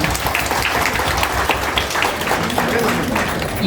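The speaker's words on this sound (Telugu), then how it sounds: "ఒక్కసారి ఈ దంపతులకి గట్టిగా చప్పట్లు కొడతామన్నమాట" Audience applauding for a couple at a Women's Day event, steady dense clapping throughout, with some voices mixed in.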